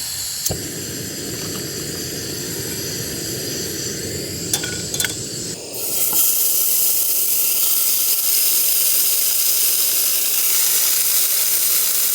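Burgers sizzle in a pan inside a winter storm tent, a steady close hiss with a few clinks of utensils, growing brighter and louder partway through.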